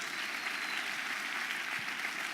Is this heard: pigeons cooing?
no